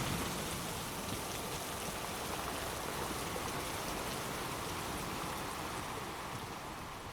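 Heavy storm rain pours down steadily and close, a dense unbroken hiss with no voices present.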